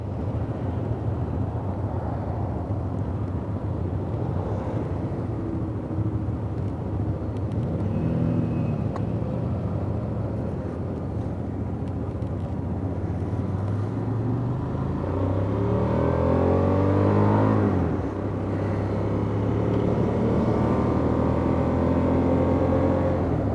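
A Hyosung GT250 twin-cylinder motorcycle engine hums steadily while riding, with a low continuous drone and pitch shifting as it changes speed through its 5-speed gearbox, plus wind noise.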